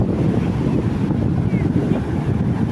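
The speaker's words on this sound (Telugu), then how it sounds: "చాలా పెద్ద అలలు వస్తున్నాయి." Big ocean waves at Shanghumugham Beach in Trivandrum rumble in a dense, low, continuous roar, close and loud, with wind buffeting the microphone.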